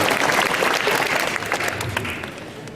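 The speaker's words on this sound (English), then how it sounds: "I think deserves a round of applause" Audience applause and scattered cheering in a convention hall during a celebrity panel at Fan Expo Vancouver 2014, a thick wash of clapping that gradually eases off.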